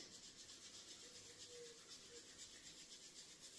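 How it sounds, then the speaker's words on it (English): Palms rubbing briskly together during a morning qi gong warm-up, a steady, soft, continuous friction hiss close to the microphone with no talking. "We're going to rub our hands together until we generate some heat."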